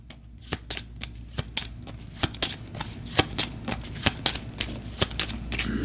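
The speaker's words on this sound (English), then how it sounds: "So we'll give that a quick shuffle." Riffle shuffle of a turn order card deck for the Astro Knights board game, a rapid run of crisp card flutters and snaps lasting several seconds, close and alone.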